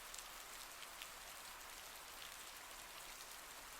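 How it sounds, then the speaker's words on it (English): Steady rain pattering against a window pane, a soft continuous hiss of drops with no break, quiet and even throughout. "the soothing patter of rain against the window pane"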